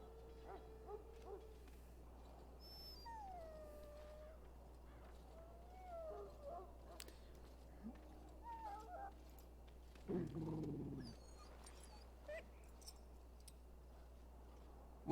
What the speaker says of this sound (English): the poor hound swallowed darkspawn blood